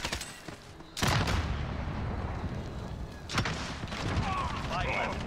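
Video game gunfire in a shooter match, bursts of dense shots starting abruptly around the one-second mark and again later, loud and continuous with voices talking over it.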